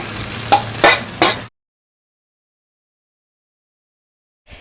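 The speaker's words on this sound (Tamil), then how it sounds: "அடுத்து வெங்காயம் போட்டு வதக்கணும்" Onions sauté in a pan with a close sizzle, and a few stirring scrapes are heard. The sound lasts about a second and a half, then cuts to silence.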